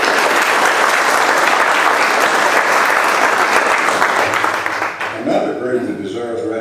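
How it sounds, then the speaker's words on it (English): Sustained applause from a luncheon fundraiser audience for the speakers and interpreters, dense, loud clapping filling the room for several seconds before fading as a voice begins speaking. "our speakers and interpreters deserve a rousing round of applause"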